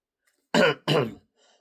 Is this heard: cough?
yes